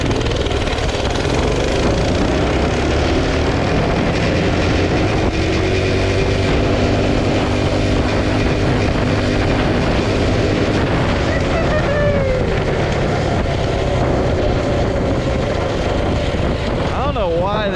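Small minibike engine running continuously while riding, a loud, strained buzzing drone with shifting pitch and heavy wind noise over the microphone, close and uninterrupted.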